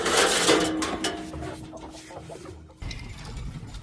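Chickens cluck and murmur close by, soft scattered calls amid rustling and faint background noise.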